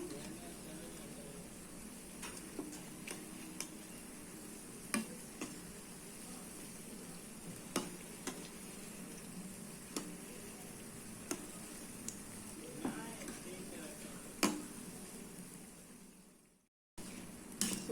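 Mysore bonda made from maida batter fries in hot oil over a medium flame, a soft steady sizzle with scattered pops and crackles, faint under background noise, before a brief dropout near the end.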